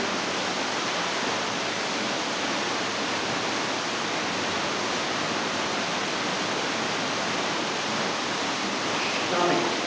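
The waterfall at Centennial Glen Grotto in Blackheath pours with a dense, constant roar of falling water, loud and close, steady from start to finish with no talking.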